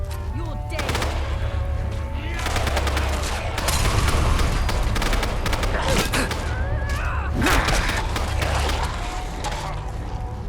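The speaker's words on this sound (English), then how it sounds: "Upon entering, I hear a relentless amount of gunfire." Rapid bursts of gunfire crackle repeatedly over a low rumbling background, with dense volleys and a few heavier thumps throughout, in the video game Fallout London.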